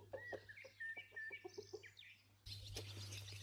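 A rooster makes a quick run of short, rhythmic clucks nearby to lure hens. The hens are close at hand, and a louder burst of outdoor noise cuts in partway through.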